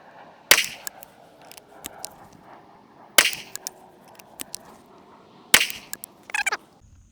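Three loud, sharp shots from a Rossi Poly Tuffy single-shot rifle in 410 bore/45 Colt, spaced a few seconds apart outdoors, each a crisp crack with a short echo tail, followed by faint mechanical handling clicks.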